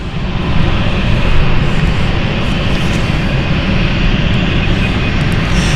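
A passenger jet bound for Frankfurt at London City Airport gives off a loud, steady engine roar that holds evenly throughout, with no voices over it.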